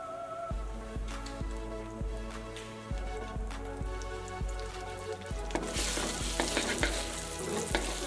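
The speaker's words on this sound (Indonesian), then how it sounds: "Kita panasin margarinnya sampai dia meleleh. Habis itu kita masukin bumbunya" Spices frying in melted margarine in a pan: steady crackling sizzle throughout with soft rhythmic stirring knocks, growing brighter and more spattery toward the end, close and without talk.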